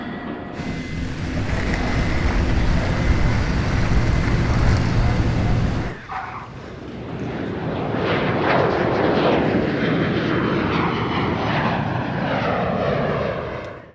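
Jet aircraft sound effect in a sound design and mixing demo, a loud continuous engine roar that abruptly cuts at the six-second mark to a different, sweeping jet pass with shifting tones, steady and close throughout.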